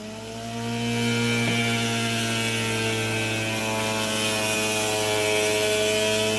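A Dremel rotary tool grinds into the metal peg of a Hot Wheels die-cast car, a sustained high whine that ramps up and holds steady, close and alone with no talking.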